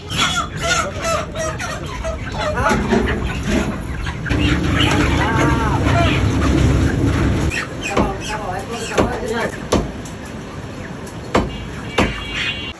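Chickens cluck and squawk busily at a market, several birds close by, with people talking over them and a few sharp clatters.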